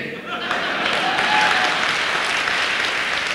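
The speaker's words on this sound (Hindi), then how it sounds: "जैसे आपने ताली बजाई उनने भी बजाई।" An audience bursts into clapping during a motivational talk, a dense, fairly loud wash of applause that swells early and holds steady to the end.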